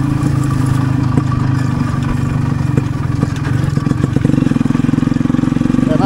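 An enduro motorcycle engine runs close by with a steady mid-pitched buzzing drone and slight rises in revs, loud and continuous, with faint talk beneath it.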